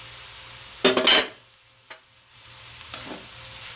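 Rice for nasi goreng, with chicken and vegetables, is stir-fried in a pan: a short loud burst of scraping and sizzling, then a lone clink and softer stirring sounds over a quiet background.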